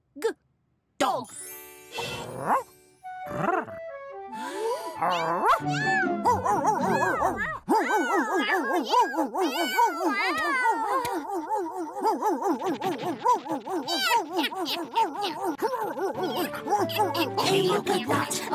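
Cat meows and wavering caterwauling over a musical, sung backdrop, with a few short sharp sounds at the start.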